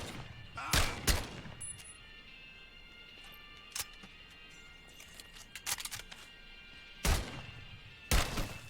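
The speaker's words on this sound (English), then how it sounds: "the Garand has the highest stopping power. Its only real drawback is the low magazine size." Rifle fire from an M1 Garand in the VR war shooter Medal of Honor: Above and Beyond: a few loud, sharp shots, a close pair early on and two more near the end, with quieter pops between them over a steady background hum.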